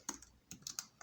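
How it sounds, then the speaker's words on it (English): Keys tapped on a computer keyboard, a short burst of about five or six light, close clicks within a second, with no voice. "Let's just type in red shield."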